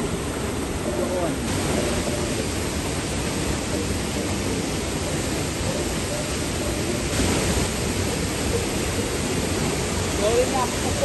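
The steady, broad roar of Bunga Falls fills the scene, a constant rushing wash of water heard up close with no gaps or pauses.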